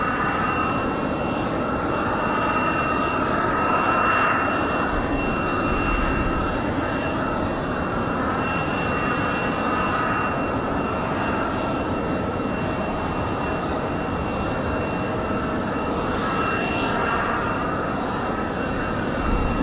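A United Airlines Airbus A319 jet departs Raleigh-Durham airport bound for Newark in windy conditions, its engines giving a loud, continuous roar that holds steady throughout with no voices.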